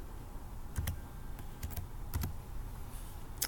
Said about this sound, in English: I'll just type a couple in here